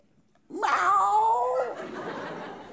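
A single drawn-out mewing cry from a human voice imitating a cat, rising then sliding down, close and fairly loud.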